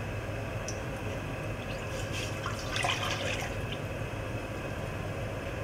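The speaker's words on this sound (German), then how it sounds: "4 Tassen Wasser." Water poured from a cup into a cooking pot, four cups of water for Habermus porridge, a steady splashing trickle with a brief louder gush midway, close by, with no voices.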